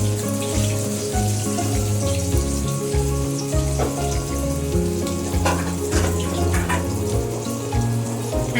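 Soybean oil going into a hot wok set on a stove for a tilapia curry, with a steady frying hiss and crackle running throughout, fairly loud and close, with no voices.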